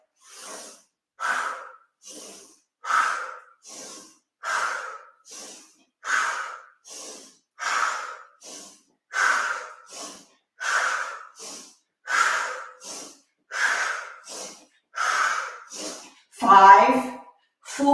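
Deep, rhythmic breaths during a wide squat in a mat Pilates workout, each close inhale and forceful exhale repeating roughly every second and a half in a steady pattern, ending in a louder, rougher puff.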